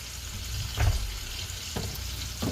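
Dried thyme dropped into a hot oil and butter mixture, giving a steady frying sizzle with a few soft stirring bumps, close and alone without talk.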